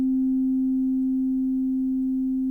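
A synthesizer sounds one steady, pure sine-like note with a long, slowly decaying envelope. It is held evenly for a couple of seconds, alone, before cutting off.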